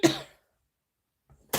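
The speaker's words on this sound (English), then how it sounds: "If you can stop coughing." A single short cough burst right at the start, close and fairly loud, followed by near silence and a faint stir of movement before another brief noise at the end.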